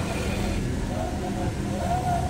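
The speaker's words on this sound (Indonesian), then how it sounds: "Ini adalah suara kendaraan motor." An SHP 702 toy Vespa scooter plays its electronic motorbike engine sound effect, a steady buzzy engine drone at moderate volume over a low background rumble.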